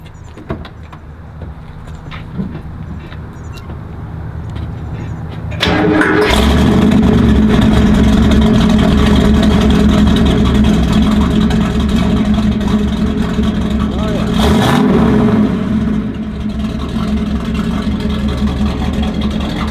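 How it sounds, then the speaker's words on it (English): A 1967 Camaro RS/SS V8 engine idles low at first, then fires up into a loud, throaty rumble that holds steady with a brief rev. "Here, I'll fire that up."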